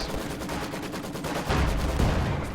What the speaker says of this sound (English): Field gun gets a nice shot off on the Panzer IV though.